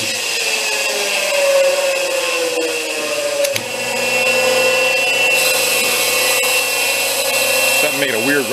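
An old, freely obtained belt sander runs on a metal bench with a continuous loud grinding whine and a weird rubbing noise, a brief dip midway, then steady running.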